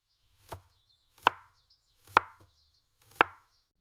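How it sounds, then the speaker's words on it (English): Carrots are chopped with a knife in a kitchen, four crisp, evenly spaced knife strikes on a board, close and clear against near silence, with no one speaking. "Can you chop the carrots for me? Of course, I am chopping them now."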